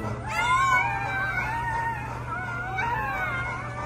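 XL Bully dog howling in long wavering, rising and falling tones, fairly close and steady over a low constant hum, with a brief break before a second howl.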